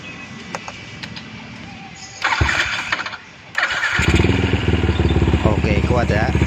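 A Yamaha Jupiter MX motorcycle with a TWH Racing 60 mm setup is electric-started: a cranking starter whir gives way after a couple of seconds to the engine firing and settling into a loud, steady, throbbing run close by, with a voice talking over it.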